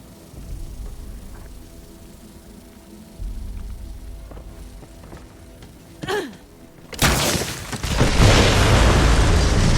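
An explosion in the video game Borderlands 3 goes off near the end as a loud, broad burst that swells and keeps roaring, preceded by low rumbling game ambience and a few soft thuds.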